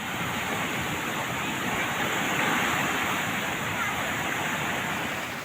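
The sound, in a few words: flooded creek and river water rushing after heavy rain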